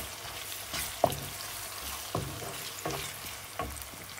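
Garlic-ginger paste with cinnamon, cardamom and bay leaves frying in a pan, a steady sizzle broken by several sharp scrapes of a spoon stirring at irregular intervals, close and moderately loud with no talking.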